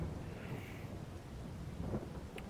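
Rain in Farming Simulator 22 falls as a soft, steady hiss with a low rumble underneath, faint and continuous, with no voices.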